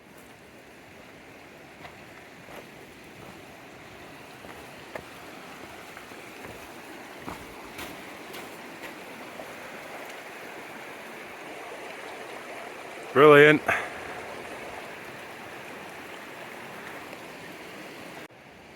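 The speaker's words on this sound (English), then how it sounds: "This is Bear Creek." Steady rushing water of Bear Creek, a High Sierra mountain creek, fills the background, with a brief loud bump near the end and a single spoken word.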